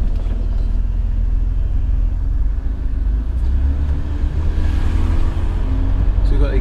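A cheap Ferrari, left sitting for four months and now down on power, drives along the road, its steady engine rumble loud and continuous throughout.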